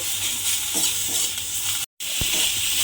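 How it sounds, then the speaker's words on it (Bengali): Spice masala sautéed in a pan for a rasgulla curry, a loud continuous sizzle and hiss with scraping stirs, close up, broken briefly by a moment of silence. "এবারে মশলাটাকে আমি খুব ভালোভাবে কষিয়ে নিতে হবে"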